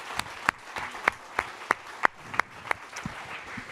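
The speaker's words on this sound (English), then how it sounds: "a massive round of applause for our host this evening, Meta." Applause from an audience at a London DevOps meetup hosted at Meta, heard as a room of clapping with sharp, evenly spaced louder claps standing out roughly every third of a second.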